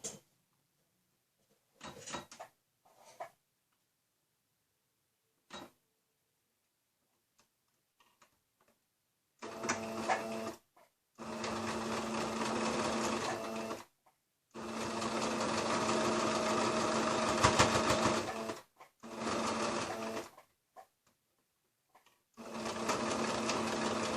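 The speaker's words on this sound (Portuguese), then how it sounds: "E vou costurar com um pezinho de máquina." A sewing machine stitching patchwork with a presser foot runs in several bursts of steady mechanical whirring, separated by quiet pauses and a few soft clicks and handling taps.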